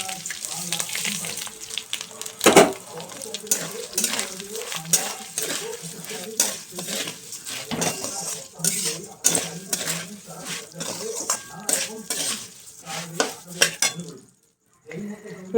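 A spoon stirs grated ginger and rice in a sizzling pot, with rhythmic scraping strokes and clinks against the metal over steady frying, close and fairly loud, ending in a short quiet gap.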